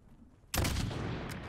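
A sudden, sharp burst of enemy automatic gunfire in Call of Duty Modern Warfare erupts after a quiet moment and rattles on briefly.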